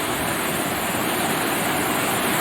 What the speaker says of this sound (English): The first waterfall in the Four Falls